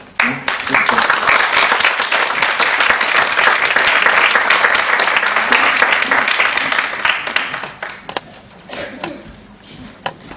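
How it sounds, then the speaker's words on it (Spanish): An audience gives a hearty round of applause after a talk, dense clapping swelling quickly and holding strong for several seconds before thinning to scattered claps, with a few voices heard near the end. "dar un merecido aplauso"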